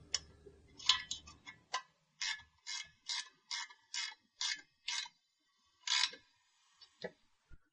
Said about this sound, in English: Now I'm ready to just snug up my set screws.